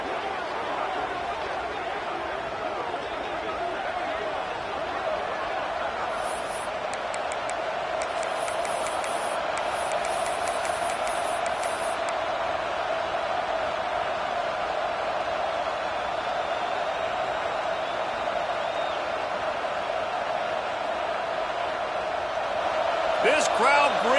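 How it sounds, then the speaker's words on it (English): A football stadium crowd roars steadily from a distance in a broad, unbroken wash, with a commentator talking over it throughout. "This crowd bringing the energy and noise early."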